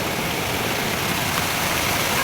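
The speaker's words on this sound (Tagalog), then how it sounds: "Naabot na naman tayo ng malakas na ulan" Heavy rain pours onto a roof at a rooftop welding job, a dense, steady roar of hiss with no breaks and no voices.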